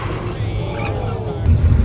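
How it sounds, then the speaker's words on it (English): A car doing donuts around a parked car, its tires skidding in a steady, loud, continuous rumble and hiss of rubber and engine that swells slightly near the end, heard up close without speech. "Mr. Ryder here with Mental Drive wants me to do donuts around his car"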